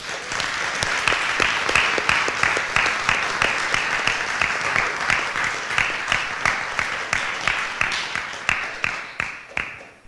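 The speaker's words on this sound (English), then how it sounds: "I think we should give them all a round of applause." An audience at a symposium and grand opening gives a sustained round of applause, many hands clapping together steadily before it thins out and fades at the end.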